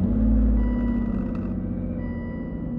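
A 2011 Aston Martin Rapide engine runs close by with a loud, deep, steady rumble that eases slightly after the first half-second, heard alone without talk.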